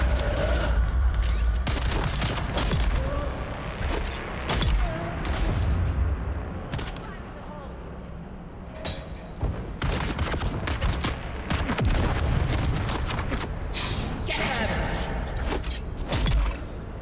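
Gunfire fills a fight in the video game Dune: Awakening, with dense bursts of shots and repeated cracks through the whole stretch, loud and close, while a person talks over it.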